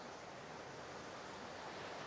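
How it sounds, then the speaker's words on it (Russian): Steady broadband wash of sea surf rolling onto a beach on Phu Quoc island, Vietnam, continuous and fairly close with a light wind hiss, no voices. "А там у тебя море шумит."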